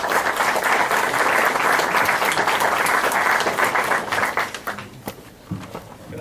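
A seminar audience claps to welcome a speaker, steady dense applause for about four seconds before it thins into scattered claps and dies away.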